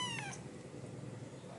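A one-month-old kitten gives a couple of short, high meows right at the start, then only faint background noise remains.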